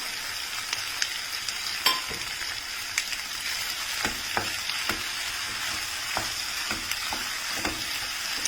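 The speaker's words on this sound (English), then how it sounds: "just saute it for another 30 seconds to 1 minute" Grated processed cheese and pasta sauté in a pan with a continuous close sizzle, punctuated by irregular clicks and scrapes of stirring, no voices.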